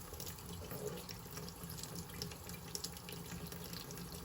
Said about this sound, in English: I turn the water on slowly so I can watch it.